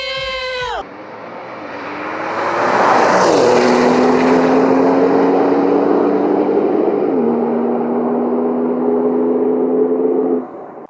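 A tuned Porsche 992 Turbo S launching on a drag run, engine note dropping at launch, then a loud sustained roar rising through gears with a clear shift, fading slightly near the end.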